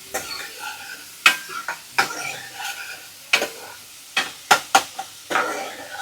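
Tomatoes frying in a pan until browned, with a soft sizzle underneath and repeated sharp scraping clicks of a spoon stirring against the pan at an uneven rhythm, close and moderately quiet.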